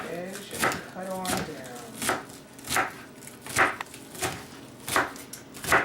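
A knife chops through green onion on a cutting board in about nine crisp, evenly spaced strikes, close and distinct, with a brief stretch of talk near the start.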